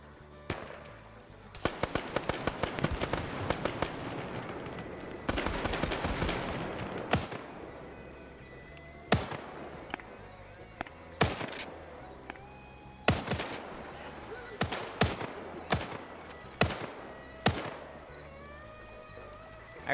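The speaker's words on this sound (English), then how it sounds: "I heard someone just get double tapped." Gunshots ring out in a Vietnam-era PvP match game, starting with a dense rapid burst of automatic fire and then giving way to spaced single shots and short volleys, some near and some farther off.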